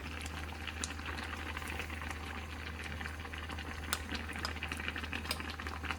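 Clams and egg go into a pot of boiling soybean-paste soup with mallow, giving a steady, close bubbling and simmering hiss that runs continuously without talk.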